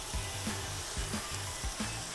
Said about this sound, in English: butter nice and hot, we're going to take our zucchini spirals, throw it in there real quick